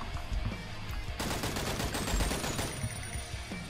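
Rapid automatic gunfire in the video game AWO: Shooter, a dense burst of shots in quick succession layered over a few scattered earlier shots, loud and continuous without talk.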